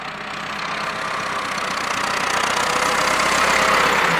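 A tractor engine runs steadily while working a field outdoors, a continuous rumbling drone that grows slightly louder, with no one speaking.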